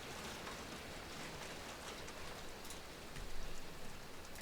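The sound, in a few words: heavy rain falling outside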